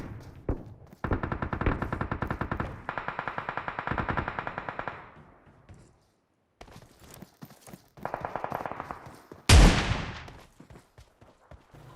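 Gunfire in a battle royale video game, with a rapid automatic burst, a second stuttering volley, then a single loud, sharp blast like a shotgun shot near the end, separated by short lulls.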